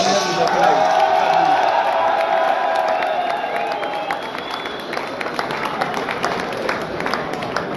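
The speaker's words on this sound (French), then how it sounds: "si vous pouvez applaudir en mon nom à la fois Samuel et Nicolas" An audience at the SIA event applauds with cheers and whoops, a loud, dense crowd of clapping that swells at first and then settles into steady, slightly thinning applause over several seconds.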